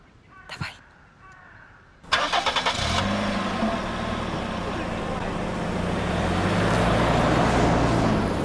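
A car engine cranks and catches after a short pause, then settles into a steady idle that builds slightly toward the end, with brief voices heard earlier.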